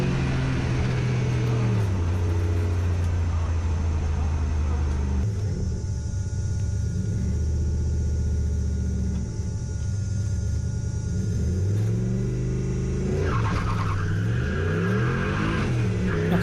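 A 1UZ-engined turbo drag car launches hard at Santa Pod, its engine rising through the gears in loud sweeping pitch climbs, then falling into a lower drone before revving up again.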